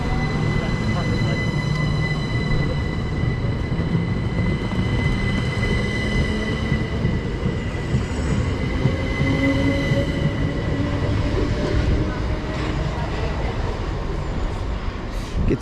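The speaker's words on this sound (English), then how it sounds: "going out now is going to be the 1544 Southeastern service to Hastings from London Charing Cross" A Southeastern passenger train, a Class 375 unit, pulls out of a station bound for Hastings, its steady rolling rumble and rising motor whine filling the scene throughout, with faint voices underneath.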